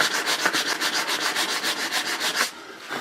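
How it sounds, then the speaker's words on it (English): Sandpaper of 220 grit, wrapped around a block, rubs back and forth over an oxidized mahogany guitar body in steady, rhythmic close strokes, about ten even passes before easing off. "I'm having to sand it more, not to make it smooth or to get out marks, but to make sure that the color is even"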